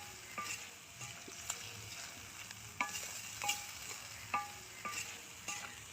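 Ginger, cumin, coriander and chili pastes with chopped ripe tomato and bay leaf fry in a pan, a soft sizzle broken by sharp, irregular scrapes and taps of a stirring spatula, close and fairly quiet.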